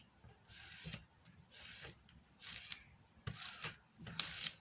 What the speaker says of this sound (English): using the straight edge of the ruler just to rub all that off